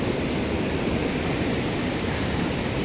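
Abbe Falls (Abbegundi) pours down with pressure, producing a constant, thick wash of rushing water heard alone and evenly throughout.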